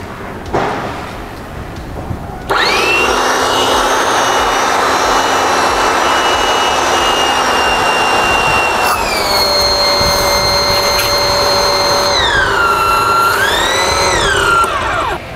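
A Xenon jet cleaner pressure washer, a steam machine for washing cars and motorcycles, starts after a quiet moment and runs loud and steady with a high motor whine. Its pitch dips and rises a few times near the end.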